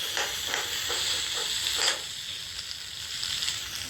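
Potatoes frying in a pan with spices give a steady close hiss and sizzle, with a few soft stirring scrapes early on and no talking.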